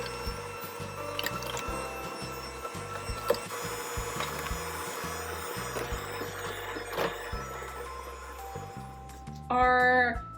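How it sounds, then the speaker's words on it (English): Cookie batter of sugar, eggs and banana being mixed, a steady wet churning and squishing with light knocks against the bowl, ending in a short electronic beeping tone. "I'm going to just continue mixing this and hope for the best."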